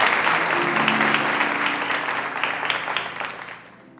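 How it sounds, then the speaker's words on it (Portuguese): Loud applause fills a church as the congregation claps together during a service, holding steady and then tapering off near the end. "Você pode aplaudir bem forte Jesus por esse milagre extraordinário."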